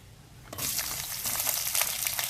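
Onion drops into hot vegetable oil for a stir fry of eggplant with egg, breaking from near silence into a sudden bright sizzle that crackles on steadily and close.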